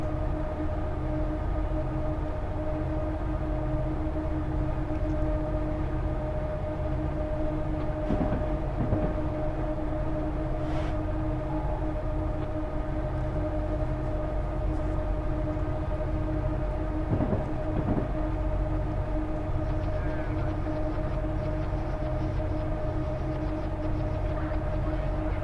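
Two full locomotives in a Train Simulator game haul a train up a slight 0.8% grade on Sherman Hill, a continuous heavy diesel drone with steady engine tones and occasional clanks, unbroken for the whole stretch.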